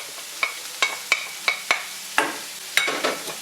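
Coconut pieces and bitter gourd fry in a pan, a steady low sizzle broken by about eight sharp scraping stir strokes at uneven intervals, close and moderately loud with no voices.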